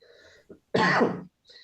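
A single short, raspy cough or throat-clear, close by, between brief quiet murmurs.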